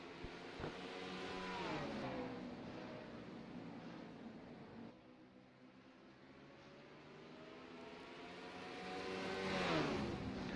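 Race cars in a Dodge Motordrome racing video game rev and drone past, engine pitch rising and falling in waves as they sweep by, quiet and continuous with no talk.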